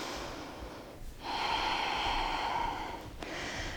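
Breathing during a yoga stretch, one slow, steady, close breath through the nose lasting about two seconds, followed by a brief pause and another shorter breath, with no talking.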